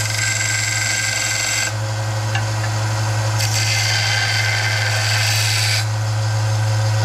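WEN 1x30 belt sander grinding burr edges off a piece of metal, a loud constant motor hum with harsh scraping bursts as the metal is pressed against the belt, no voices.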